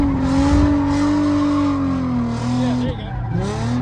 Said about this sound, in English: This is like his second time ever drifting